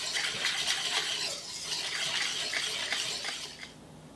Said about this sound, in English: We'll just mix up these dry ingredients.